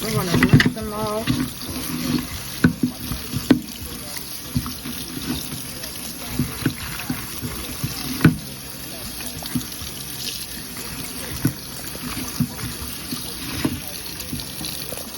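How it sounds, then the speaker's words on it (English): Mushrooms are rinsed under a running kitchen tap, the steady hiss of flowing water broken by irregular splashes and clatters as they are handled in the sink. "I'm gonna rinse them off."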